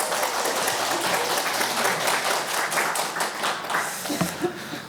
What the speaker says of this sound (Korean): 다시 한번 감사의 박수, 축복의 박수 하겠습니다.